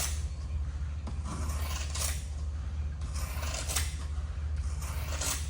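Sharp scissors snip through fiberglass cloth in a run of crisp, rasping cuts at a steady rhythm, close and fairly loud over a constant low hum, with no talking.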